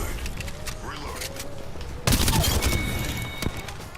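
Gunfire in the shooter video game Apex Legends, a rapid burst of automatic shots that swells into a louder, denser volley halfway through, close and punchy.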